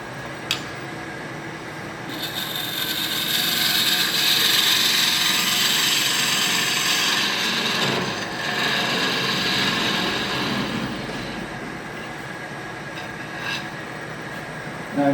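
A woodturning gouge makes a steady pass across the face of a peppermill blank spinning on a lathe, giving a continuous scraping, whirring cut with a brief dip midway and a few sharp clicks.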